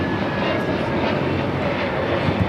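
A JetBlue Airbus A321neo, Flight 724, takes off from LAX bound for JFK. Its engines give a steady, loud, broad roar with no talk over it.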